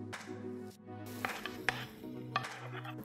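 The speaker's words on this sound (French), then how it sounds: "on va pouvoir le faire revenir dans une poêle avec un petit peu d'huile d'olive" Chopped onion sautés in a frying pan with a little olive oil. Soft sizzling runs under scattered clinks and scrapes of a utensil against the pan, quiet and close.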